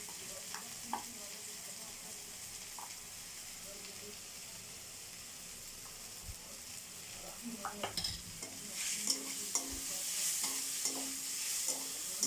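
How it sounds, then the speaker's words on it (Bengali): Sliced onions with a pinch of sugar fry quietly in a pan, a soft sizzle broken by scattered scrapes and clicks of a spoon stirring, growing a little busier toward the end. "পেঁয়াজটার সঙ্গে একটু চিনি দিয়ে দিলে তাড়াতাড়ি একটুখানি নরম হয়ে যায়"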